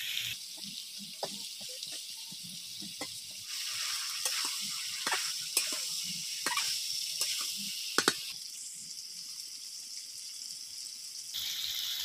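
Chicken sautés with ginger paste in a pan: a soft continuous sizzle punctuated by scattered clicks and scrapes of stirring, fairly quiet and without talk.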